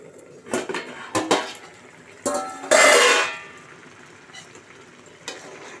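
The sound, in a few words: pot lid put on cooking Bambino upma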